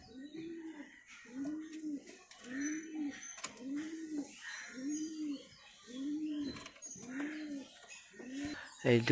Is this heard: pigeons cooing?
yes